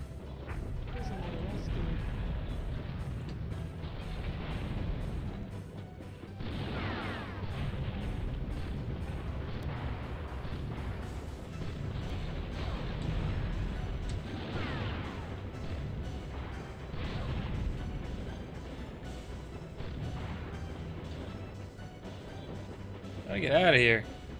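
Turrets firing and explosions in the video game BattleTanx: Global Assault, a dense continuous rumble of booms and blasts throughout, with a louder burst near the end and a voice talking over it.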